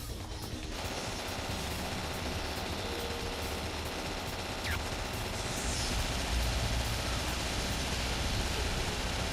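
Rapid gunfire in Devil May Cry 2 runs as a dense, continuous burst of shots over loud game noise, steady throughout with a slight swell near the end.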